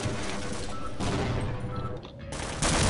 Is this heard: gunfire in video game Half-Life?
yes